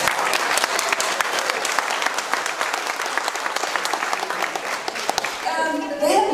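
Applause from a gathered crowd at a festive neighbourhood opening with coffee and language activities, dense sustained clapping close by for several seconds, with a voice breaking in near the end.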